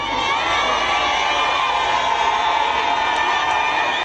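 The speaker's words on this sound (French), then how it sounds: "qui suscite les cris et acclamations" A crowd at a public event welcoming the head of state's wife cheers and shouts continuously, a dense, loud roar of voices with children's cries mixed in that holds steady throughout.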